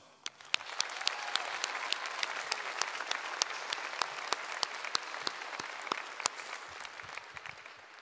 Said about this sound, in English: let's offer a round of applause for all the fine folks that call LHS home